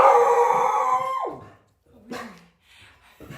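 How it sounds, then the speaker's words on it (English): A dog lets out a long drawn-out howl that slides down in pitch, followed by a couple of shorter yelping barks nearby. "Who you barking at with all that?"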